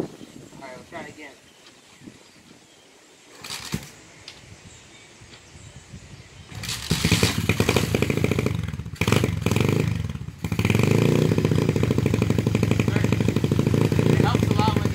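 Apollo 125cc dirt bike engine starting up partway through and then running loudly and steadily, with a brief dip before picking back up; quieter handling noises and a voice come before it starts.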